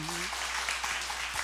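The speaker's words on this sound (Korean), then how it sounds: "우리 박수 한번 쳐주세요" Applause from a church congregation at a Korean revival meeting, a steady wash of clapping with a brief held tone at the start and a low hum beneath.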